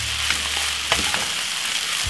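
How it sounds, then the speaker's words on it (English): Saltfish stir-fried with soy sauce and pepper, a close, steady sizzle broken by a few sharp scraping stirs, with no one talking. "Soy sauce, a little bit of pepper. Just gonna stir for 4 minutes"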